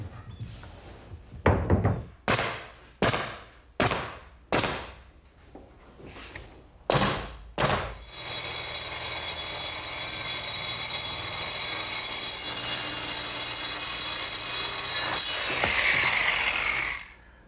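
Pneumatic stapler driving 1.5-inch staples into half-inch CDX plywood roof sheathing on a playhouse roof, seven sharp, evenly spaced loud bangs, each with a brief echo, followed by a steady compressor-like hum with no talk.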